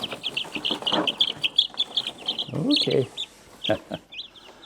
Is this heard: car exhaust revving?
no